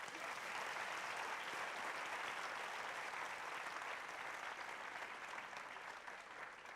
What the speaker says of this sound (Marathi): टीमसाठी जोरदार टाळ्या होऊ द्यात